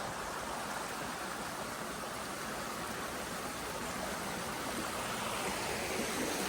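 Steady broadband rushing of a stream along the Appalachian Trail, constant and fairly loud throughout with no pauses or voices.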